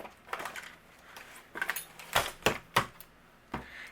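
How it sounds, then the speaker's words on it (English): A tape runner lays adhesive onto a card background in a series of close, sharp clicks and soft ticks, clustered in uneven bursts with quiet gaps between. "I'm going to use my tape runner."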